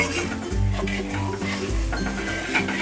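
Spice masala with coconut milk stirred in a pan, giving soft scraping and light clinks of the spoon beneath steady background music.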